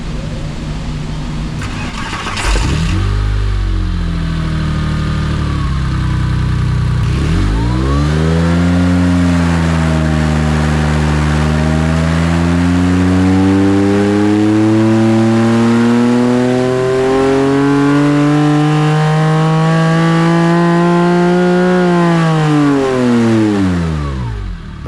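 A rebuilt stock-capacity Porsche 997.1 3.6L flat-six on a dyno cranks and fires, then revs in a long, loud, rising pull that climbs steadily before easing off, close and alone.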